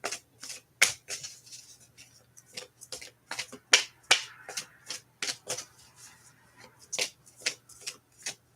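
A tarot card deck is cut and shuffled up close in a quick, irregular series of sharp snaps and riffling flicks, some louder than others, with no voices.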